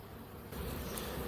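Honeybees buzzing around an open beehive, a faint continuous drone that swells slightly halfway through, with no voices.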